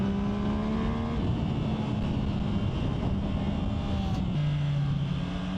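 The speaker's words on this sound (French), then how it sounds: "en travaillant sur le frein moteur, j'ai pas besoin de toucher le frein de la moto" A steady Yamaha MT-09 Y-AMT motorcycle engine drone with shifting low tones as the revs drop and hold under engine braking, running continuously without any voices.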